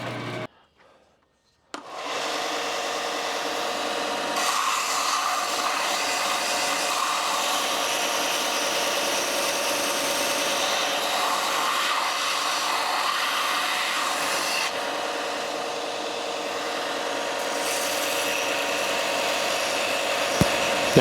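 A belt sander profiles a wooden spatula with a steady, loud whirring drone after a brief quiet start, holding a constant tone under no talk with slight shifts as the wood is pressed against the belt.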